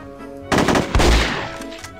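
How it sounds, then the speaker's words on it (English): A shotgun in No One Lives Forever 2 fires with a sudden loud blast, followed a moment later by a second heavy shot and a decaying rumble. "I still hear a shotgun."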